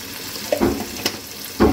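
Dry red chilli and whole cumin crackle and sizzle in hot oil, with a steady close fizz broken by a few sharper pops and stirring scrapes.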